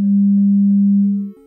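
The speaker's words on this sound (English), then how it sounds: "This is a sine wave." A pure sine wave tone, a single steady low pitch held for over a second before fading away, clean and loud with no other sound.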